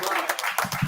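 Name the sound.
audience applause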